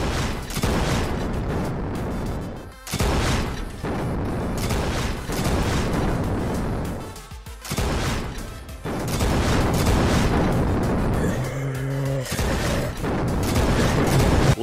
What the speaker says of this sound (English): The next leak I'm going to cover is going to be the new mortar explosions.